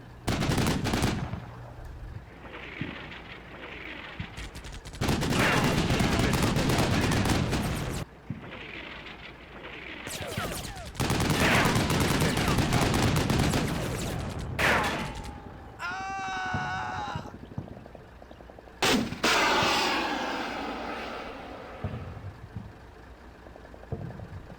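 Gunfire and artillery from the war video game Combat Mission: Shock Force 2 come in loud, dense bursts of shots separated by short gaps. A warbling tonal sound cuts in midway.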